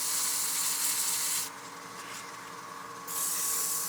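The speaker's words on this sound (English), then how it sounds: "And just lightly sand here." Sandpaper of 240 grit rubs lightly against a turned wooden piece spinning on a lathe, a close, steady hissing rasp that drops away briefly mid-way and then resumes, with the lathe humming underneath.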